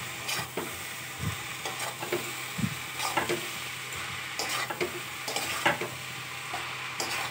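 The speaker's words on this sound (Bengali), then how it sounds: "দিয়ে ভালোভাবে মশলার সঙ্গে কপিটা একেবারে মিশিয়ে নেওয়ার পালা।" Boiled cauliflower is stirred into frying spice masala, a soft bubbling sizzle broken by repeated scraping and clattering stirs, fairly quiet and close, with no talking.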